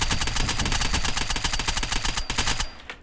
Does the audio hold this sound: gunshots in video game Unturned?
yes